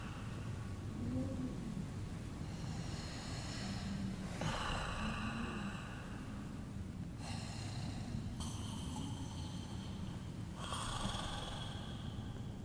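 A thunderstorm in the video game A Fisherman's Tale: steady rain hisses throughout while low rumbles of thunder roll in and fade several times, fairly quiet and distant.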